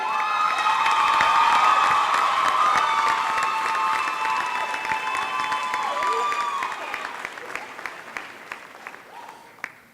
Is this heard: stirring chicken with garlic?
no